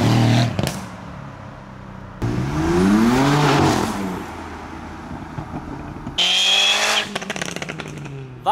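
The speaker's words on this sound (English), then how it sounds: "Oh, the BM is revving. Oh, they're all popping and banging now." Loud modified car engines, including a BMW, rev hard in bursts as cars leave a car meet, rising and falling in pitch, with crackling exhaust pops between revs, close by.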